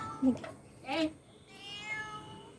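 A cat at a home bird aviary gives two short meows and then a longer, drawn-out cry, all at moderate volume and close by.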